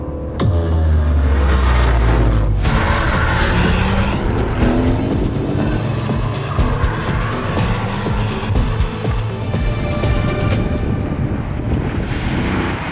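Aston Martin Vantage in track mode lapping Blyton Park, its loud engine roaring steadily and close with rising and falling revs, shifts and brief tire squeal throughout.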